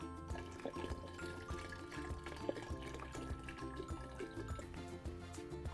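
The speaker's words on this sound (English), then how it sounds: "And then we add our chicken stock." Chicken stock poured into a pot of lasagna soup, a steady wet liquid stream with faint drips, quiet and close, under light background music.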